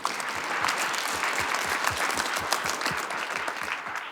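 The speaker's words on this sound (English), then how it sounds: "Can we actually give Doug a round of applause?" Steady applause from an audience at a trucking safety event, many hands clapping together in a continuous, moderately loud wash, with a few more distinct claps close by.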